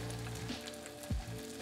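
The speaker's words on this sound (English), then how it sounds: "You can hear the little sizzle, so the oil is hot." Korean pancakes fry in hot oil in a pan, giving a soft, close sizzle with a couple of brief louder crackles. The sound is quiet and steady, with no voices.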